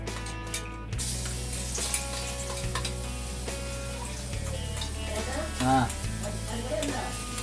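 Greens sautéed in a hot pan in a home kitchen, for a Kerala-style spinach recipe: a constant close sizzle with occasional stirring scrapes and clinks.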